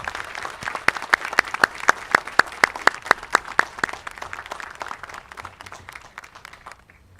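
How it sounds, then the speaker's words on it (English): Crowd applause at a high school graduation ceremony, starting with sharp, distinct claps that build into a steady round before tapering off, heard fairly near in a large venue. "Please, a big round of applause for the family"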